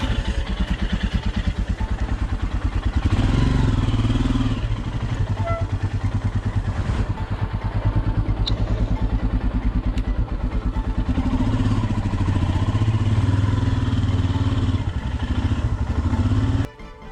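A Royal Enfield Himalayan motorcycle rides through snowfall near Kufri, Shimla, its single-cylinder engine thumping steadily and loudly throughout, with wind buffeting the mic and faint clatter over the engine note.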